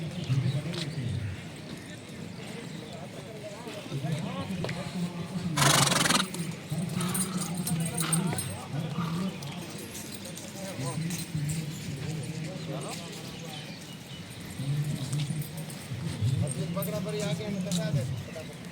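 Polo ponies move across the field during a match, their hooves thudding in a loose, ongoing rhythm at a distance, under a commentator speaking Hindi and the noise of the crowd.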